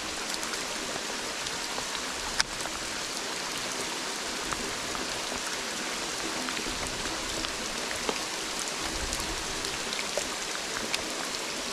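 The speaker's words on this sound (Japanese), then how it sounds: "雨すごいな。" Heavy rain pouring down outdoors during a fishing trip, a dense continuous hiss of drops hitting surfaces and water, steady and loud throughout with occasional sharper splashes.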